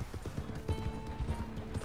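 Quick hoof clip-clops in a brisk trotting rhythm, fairly close, with a faint mechanical whir underneath, from a horse in the video game Red Dead Online.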